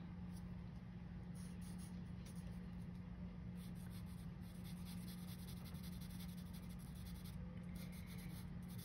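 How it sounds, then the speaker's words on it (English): A pen shades boxes on a paper debt-tracker sheet, making a soft, continuous scratching that stays faint under a steady low room hum, with no talking. "So I am going to shade 2 of these boxes here."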